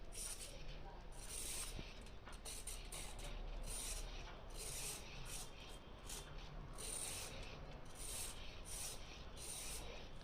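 Carrots being peeled for Indian carrot halwa, heard as faint, continuous rhythmic scraping strokes from a peeler at close range, with quiet rubbing texture throughout and no speech.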